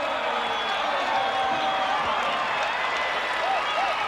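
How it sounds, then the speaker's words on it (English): A college wrestling crowd at an Iowa State match in 1985 cheers and applauds after a win, a steady, dense wash of clapping and voices with no pauses throughout. "Look at the Iowa State crowd, and they're really happy about Carr's 13-7 win"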